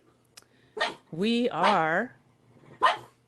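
A dog barks a few times at a distance in an indoor room, short yaps at the start and end framing a stretch of a person talking.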